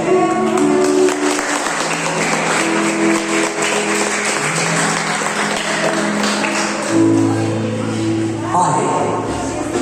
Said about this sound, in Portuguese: e as palmas para Cristo